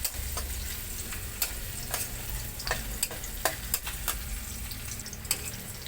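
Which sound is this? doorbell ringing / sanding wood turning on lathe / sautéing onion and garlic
sautéing onion and garlic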